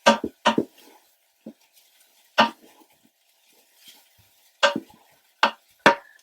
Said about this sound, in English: we're going to go in with the mince and we're going to make sure that we mix everything really well